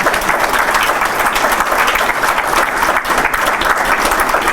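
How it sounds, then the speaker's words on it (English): Conference audience applause after a talk, with thick, even clapping from a crowd that stays loud and sustained for the whole stretch with no voices on top. "let's give Jim a big applause."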